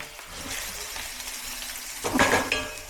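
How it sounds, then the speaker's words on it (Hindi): Onions fry in ample oil in a pan over a high flame, a steady sizzle close by, with a burst of stirring and utensil clinks against the pan near the end. "बढ़िया से फ्राई करना है अनियन को."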